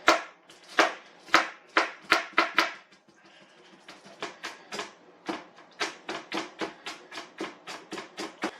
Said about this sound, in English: just scrape all the membranes and seeds out with a spoon